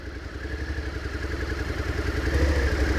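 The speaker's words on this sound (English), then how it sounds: "All right, no hands on the gas, right? Clutch in, bike's in gear." Suzuki SV650 V-twin idling in gear with the clutch pulled in and no throttle, a steady loping low thrum with a faint mechanical clatter, close and continuous for about three seconds.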